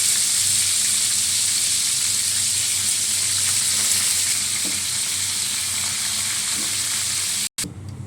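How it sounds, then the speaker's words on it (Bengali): Cauliflower florets frying in hot oil in a pan, a loud, dense, steady hiss of sizzling heard up close, continuing evenly before a sudden brief cut near the end. "ফুলকপিগুলো ছেড়ে দিচ্ছি, এগুলো একটু ভালো করে ভাজা হোক"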